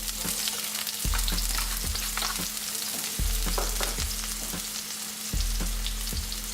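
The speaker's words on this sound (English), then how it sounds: "Once the wok is hot, we're going to add our oil. And then we're going to add our onions." Onions hit hot oil in a wok with a strong, continuous sizzle, and regular stirring strokes punctuate the frying throughout, with no one talking.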